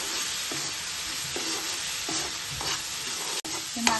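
A spoon stirs chili powder through egg masala frying in a pan, with a steady sizzle beneath repeated scraping strokes at a moderate pace, close and fairly loud, ending in a sharp knock.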